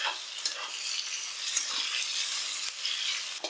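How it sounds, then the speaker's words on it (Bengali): Cashews, raisins, carrots and beans being stirred and fried in a pan for fried rice give a steady, close, hissing sizzle with soft scraping from stirring, continuous throughout with no voices. "কাজু কিশমিশ আর গাজর বিনস খুব ভালো করে আমি নেড়েচেড়ে ভাজা করে নিয়েছি"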